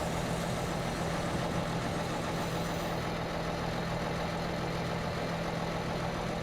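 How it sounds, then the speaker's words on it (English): A diesel train engine idles steadily in Train Simulator 2016 on a German route between Bullay and Traben-Trarbach, a continuous low rumble with a broadband hum, heard near and alone without speech. "you can now hear the diesel engine in this end of the train"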